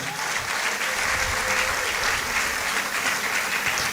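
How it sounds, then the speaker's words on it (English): An audience at a pharmacy school white coat ceremony applauds, a dense steady wash of clapping from many hands throughout, fairly loud and uninterrupted. "Another round of applause for them."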